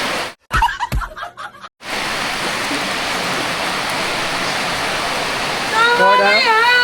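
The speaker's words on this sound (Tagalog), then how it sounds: "Malakas ang ulan guys." Heavy rain pours down outdoors in a dense, steady roar that fills the scene. Brief voices and laughter come through near the start, and a thin wavering whine rises over the downpour at the end.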